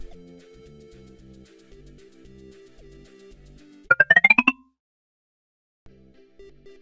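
A brief burst of a phone ringing, a quick run of bright repeated tones lasting about half a second, stands out above a low steady hum before near-silence.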